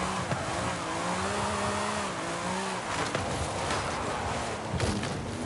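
A car drifting in Forza Horizon 5, with a steady engine roar and wavering tire squeal as it slides through a turn, loud and continuous.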